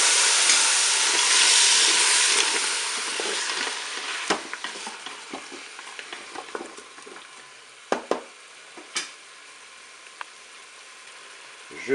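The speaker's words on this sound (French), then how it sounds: "J'ajoute mes champignons de Paris." Button mushrooms frying with pork roast in a Cookeo pot, a loud hiss and sizzle at first that gradually softens, broken by sharp spoon knocks and stirring clatter near the end.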